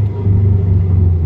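Subaru fitted with a 3-inch exhaust and high-flow catalytic converter, a loud, close, steady low idle rumble with no talking.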